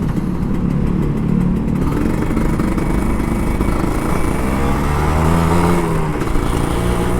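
An old Kawasaki Ninja RR 150 motorcycle engine runs steadily and loudly, with gentle rises in revs and a throaty low rumble throughout, no voices.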